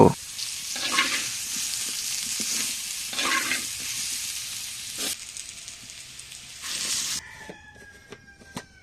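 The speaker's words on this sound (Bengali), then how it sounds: "মাছ ভেজে নিয়েছি এখন সিদ্ধ করা কচুগুলোকেও একটু ভেজে নেব" Boiled giant taro frying in hot oil in a pan with steady sizzling and stirring scrapes that surge in bursts and then fade out toward the end; no talk.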